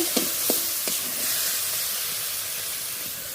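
Masala spice paste frying in oil for a fish curry, a loud close sizzling hiss with a few sharp clacks of a stirring utensil near the start, settling into a steady steam-like hiss.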